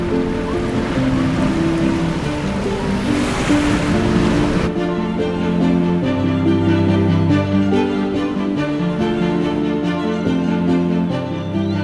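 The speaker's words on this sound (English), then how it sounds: "It's on the coast, so there's amazing surf" Ocean surf rolling onto the Margaret River coast in Western Australia: a loud, continuous wash of breaking waves, with wind rushing across the microphone.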